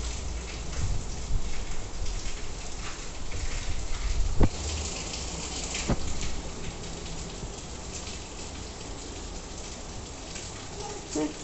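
Light rain falls steadily outdoors while someone bathes in it, a dense even patter with a couple of sharp nearby splashes, and voices occasionally speak over it.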